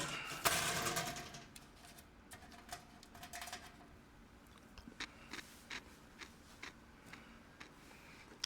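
Maple chewy cookies being bitten and chewed close up, with a crisp crunch near the start, then soft irregular clicks and chewing noises over a quiet background.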